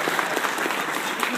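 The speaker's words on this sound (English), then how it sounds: "I think Falcon deserves some applause" A crowd claps at a State of the Empire address in Houston, producing a loud, even burst of applause close by with no break through its short length.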